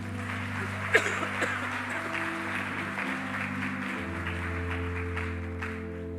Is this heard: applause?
yes